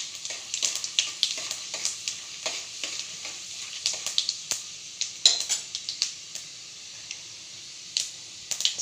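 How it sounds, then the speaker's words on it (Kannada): Chana dal frying in oil in a pan, a steady sizzle with repeated scraping stirs and light clinks of a utensil against the metal, up close with no talking. "ಚೆನ್ನಾಗಿ ಫ್ರೈ ಮಾಡ್ಕೊಳ್ಳಿ"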